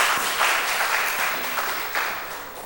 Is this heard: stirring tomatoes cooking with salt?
no